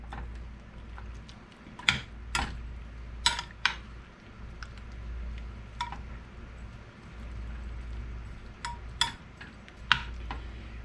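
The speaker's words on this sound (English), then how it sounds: "Mix it all up." A spoon scrapes and clinks against a pan while cheese sauce is mixed into potatoes, with scattered sharp taps over a low steady hum.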